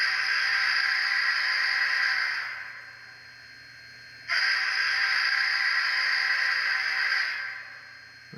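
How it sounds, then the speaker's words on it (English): Two long blasts come from the LOKSound steam whistle on an Athearn Challenger 4-6-6-4 model locomotive. Each is a sustained, breathy tone of a few seconds with a short gap between, and the second blast starts abruptly. "Very good sounding whistle."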